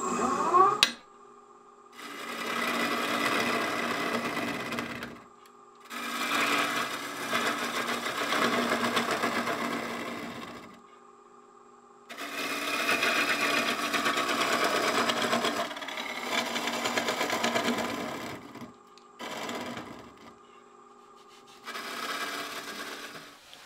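A wood lathe turns a natural edge burl bowl as a gouge cuts from the center downward, giving several long stretches of loud whirring and scraping separated by short silent pauses.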